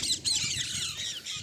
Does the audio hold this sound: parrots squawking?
yes